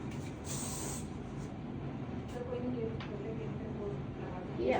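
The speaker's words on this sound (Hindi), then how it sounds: "हेयर स्प्रे कर देंगे" A short burst of hair spray misted over a ponytail while styling, a soft hiss lasting under a second near the start, followed by low room noise with talk.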